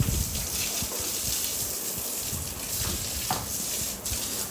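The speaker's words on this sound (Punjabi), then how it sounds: "ਫਿਰ ਇਹਨੂੰ ਦੁਬਾਰਾ ਨਵਾਵਾਂਗੇ ਪਾਣੀ ਨਾਲ" Steady rushing water pours continuously, a hose-like spray splashing without pause as a stallion is rinsed after shampooing; no voices.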